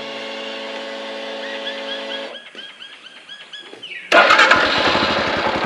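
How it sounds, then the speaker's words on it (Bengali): A Royal Enfield Scram 440 motorcycle engine fires up loudly after a few seconds of steady mechanical humming, settling into a close, throbbing run. "এবার বাইকটাকে স্টার্ট দিতে হবে"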